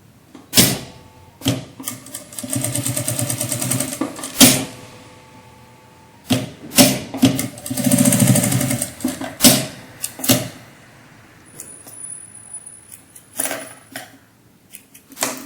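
A sewing machine stitches a narrow folded strip of fabric for a wallet in short bursts of rapid mechanical whirring, separated by pauses and light clicks.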